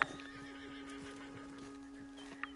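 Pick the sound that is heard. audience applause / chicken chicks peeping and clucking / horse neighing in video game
horse neighing in video game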